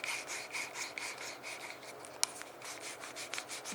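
The focus ring of a Samyang Rokinon 12mm f2.0 lens is turned by hand, producing a faint, repeated rubbing scrape with one sharp small clack partway through, close up and with no speech.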